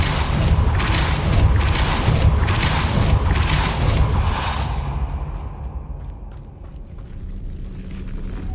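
A Depulso blast spell in the SpiritVale video game: a loud, heavy whooshing boom with rumbling body that surges for several seconds, then fades into a quieter tail with faint scattered clicks.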